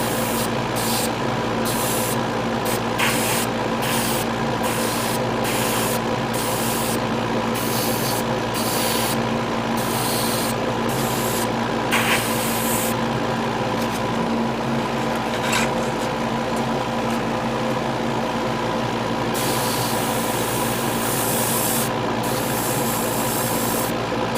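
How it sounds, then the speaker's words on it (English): An airbrush sprays primer onto a Revell 1/72 model kit, giving a constant close hiss that runs unbroken over a low hum and is cut by short bursts and gaps of airflow. "maybe prime it one more time and then respray it again. I have another airbrush ready with primer just in case"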